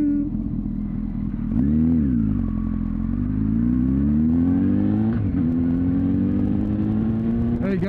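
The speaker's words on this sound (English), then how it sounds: "yes, I am on a motorcycle" A motorcycle engine drones steadily up close while riding, with the pitch rising and falling as it revs and shifts through the gears, loud and continuous throughout.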